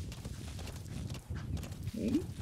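Horse hooves in Metal Gear Solid V: The Phantom Pain, a muffled rhythmic clip-clop of a galloping horse close by, with a short whinny-like sound near the end.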